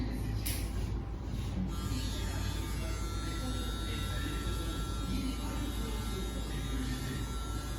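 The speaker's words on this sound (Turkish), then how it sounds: "Bu makine mi ses çıkaran?" Electric hair clippers buzz steadily and close during a young boy's haircut, a continuous whirring drone with a couple of brief clicks near the start, voices murmuring faintly underneath.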